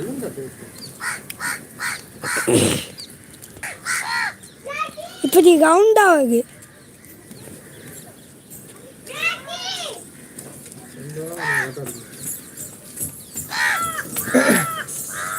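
Several crows caw loudly nearby, mixing with children's chatter and voices talking throughout.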